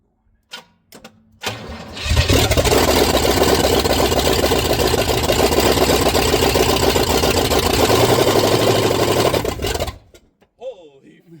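A 1968 Buick Wildcat engine fires up for the first time in decades. After a few short cranking bursts it catches and runs loudly with a rough, rapid chugging for about eight seconds, then cuts out as people talk.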